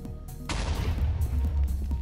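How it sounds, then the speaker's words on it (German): A creeper explodes in a Minecraft-style video game with a sudden booming burst that rumbles on for over a second, moderately loud with no talk over it. "Der Creeper ist hier hinten explodiert."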